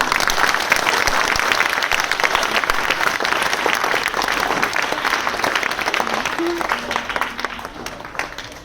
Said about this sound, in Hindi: आइए क्लैप करो।